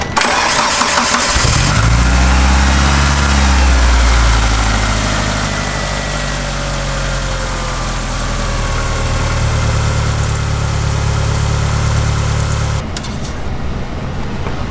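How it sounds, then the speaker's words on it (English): A 1997 Mitsubishi Eclipse GSX with a major oil leak cranks and fires up, then settles into a steady, loud, close idle with a slight rise and fall in pitch before a sharp click near the end. "Start the engine one more time."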